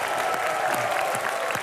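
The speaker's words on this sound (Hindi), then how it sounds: "एक बार जोरदार तालियों से स्वागत कीजिए मिस्टर अनुपम खेर और फरीदा जलाल जी का।" A studio audience at a comedy show bursts into dense, steady applause to welcome guests, the clapping loud and sustained throughout with light crowd murmur.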